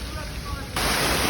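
Steady rushing of rainwater streaming down during heavy rain in Catania, Sicily, suddenly swelling louder and brighter partway through, a dense continuous wash with no voices.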